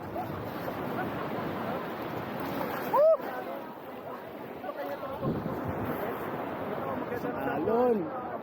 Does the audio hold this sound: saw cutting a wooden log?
no